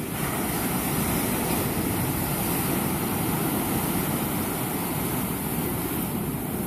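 Sea waves roll in at a pier in Tel Aviv, heard as a steady, broad wash of surf that holds at an even level throughout with no voices.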